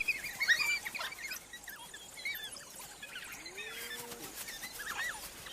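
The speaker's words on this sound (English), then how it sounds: "They also use unique vocalizations to coordinate their hunt." High, bird-like chirps and twittering calls from several African wild dogs, faint and scattered over a quiet outdoor background.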